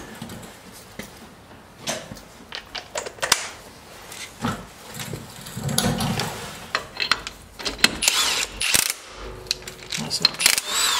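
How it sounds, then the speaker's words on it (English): Metal sockets clink and rattle while someone rummages through a tool set during a rear brake job on a Jeep Grand Cherokee WK. Irregular clatters and scraping sound close by, on and off. "Bear with me while I look for my other socket."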